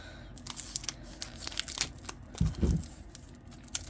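A knife or blade slices open a Hobonichi order package, with a run of close, soft crinkles and tearing of plastic and paper, plus a couple of louder thumps as the parcel is handled.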